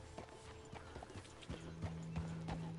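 Hooves clip-clop steadily from a horse trotting in Red Dead Redemption 2, the rhythmic thuds fairly soft beside a low droning tone.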